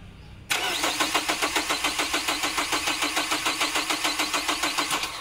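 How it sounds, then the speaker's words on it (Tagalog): A car engine, freshly primed with gasoline after a no-start, cranks with a steady rhythmic starter churn for several seconds, loud and close, with a pulsing beat throughout and no voices over it. "Redondo nyo po hanggang sa umandar."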